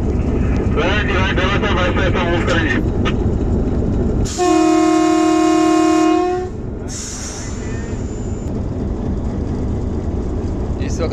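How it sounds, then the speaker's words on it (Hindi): Kohat Express train hauled by a Hitachi locomotive departs Jand Junction station, with a loud sustained horn blast amid heavy rumbling engine and rail noise, while people talk nearby. "Kohat express जंड junction railway station से कोहाट जाने के लिए रवाना हो रही है"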